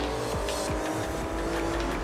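A car in Cyberpunk 2077 drives with a steady engine drone, a few quick tire squeals and revving bursts cutting through, and no one talking.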